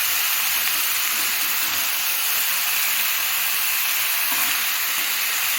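Kata chochori, a Bengali vegetable stalk dish with fried fish head, sizzling steadily in a hot pan on a home stove, a continuous close frying hiss with no talk.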